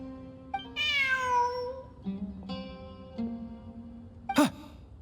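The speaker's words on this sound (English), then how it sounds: "Look, a cat." A cat in the video game Genshin Impact lets out a drawn-out meow, followed by a couple of softer short mews and a brief sharp sound near the end, close and clear with no talking.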